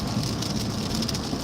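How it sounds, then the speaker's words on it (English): Light rain falling during a thunderstorm in central Oklahoma near Guthrie, a steady close hiss of drops on surfaces with no voices. "right now it's just light rain"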